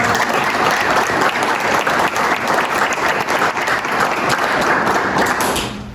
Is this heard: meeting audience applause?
yes